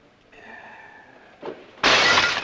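Glass breaks suddenly and loudly in a sustained bright shatter near the end, after quieter tonal room sound and a brief knock.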